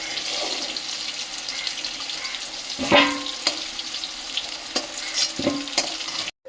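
Potato pieces fry in oil seasoned with salt and turmeric, a steady sizzle under occasional scraping stirs of a spatula, with sharp clinks standing out before it cuts off.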